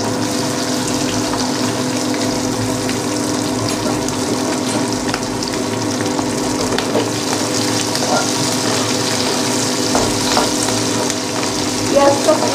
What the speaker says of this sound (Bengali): দিয়ে এবার পেঁয়াজ কুচিটা দিয়ে দেবো